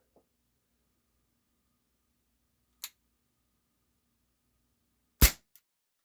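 A quiet room, then a light click, and a few seconds later a sharp, loud air pistol crack with snappy blowback, followed by a small tick.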